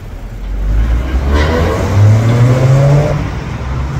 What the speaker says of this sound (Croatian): Lijepo se auto čuje